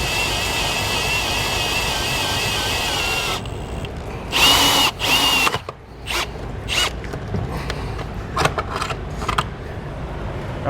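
Power drill boring a hole into the body of a 2020 Toyota while a running board is fitted, heard as a steady whine for about three seconds followed by short, sharp bursts and clatter up close.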